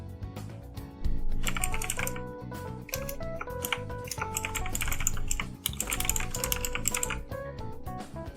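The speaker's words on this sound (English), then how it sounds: "Oh, you're gonna be hearing my keyboard a lot louder too." Computer keyboard typing runs steadily through the stretch as rapid, dense clicks and clacks, fairly close, layered over a busy mix of background music during a livestream of a Nintendo Direct.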